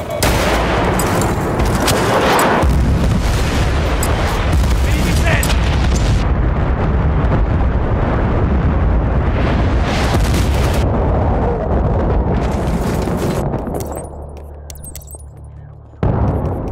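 Artillery strike explosions in Battlefield: Bad Company 2 roar as a loud, continuous barrage of booming blasts and crackling gunfire that fades slightly near the end.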